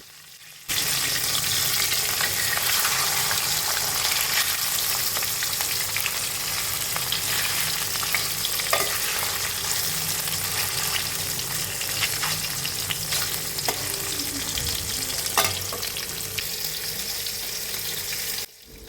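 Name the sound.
frying hilsa fish pieces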